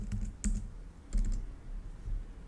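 Someone types a course name on a computer keyboard, a few close, soft key clicks in two small clusters separated by a short pause, in a quiet room.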